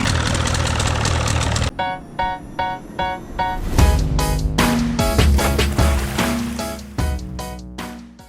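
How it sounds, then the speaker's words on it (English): A Carolina Skiff outboard boat motor runs loud and close, sputtering and revving in uneven bursts after an initial steady roar, with no talk over it. "we got a motor that runs"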